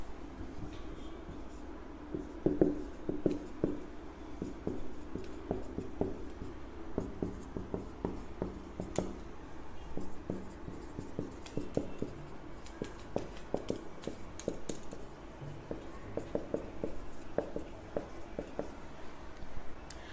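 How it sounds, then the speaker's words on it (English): A pen scratches across paper as a maths solution is written out, a faint, close, continuous scribble of short strokes and taps with no talk over it. "We'll write down the LHS."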